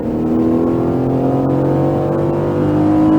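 A race car at a SpeedVegas driving track accelerates at full power, its engine droning loud and steady, with the pitch climbing gradually throughout and no voices.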